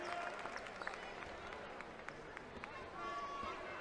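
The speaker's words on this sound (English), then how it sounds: "A round of applause for the freshman." Applause for a freshman player rises from the crowd at a girls' high school basketball state final, Lenape against Morristown, steady and moderately distant, with sneaker squeaks and arena chatter mixed in.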